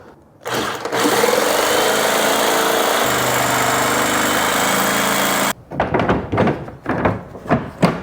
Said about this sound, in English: I have the jigsaw out, and I'm just going to try to take about a 1/2 inch off right on this corner right here.